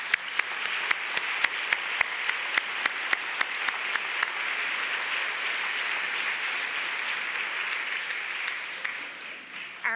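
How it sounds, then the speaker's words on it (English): A banquet audience at the GMCC Citizen of the Year event gives a full round of applause for the event sponsors. Dense, steady clapping fills the room for about ten seconds, with a few sharp, distinct claps standing out early on. "So let's have a round of applause for these sponsors."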